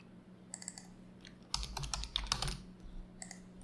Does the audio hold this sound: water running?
no